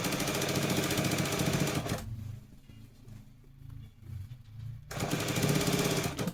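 A sewing machine stitches girl's pants in loud, rapid, rhythmic runs close by, pausing for about three seconds mid-clip before the whirring stitching resumes.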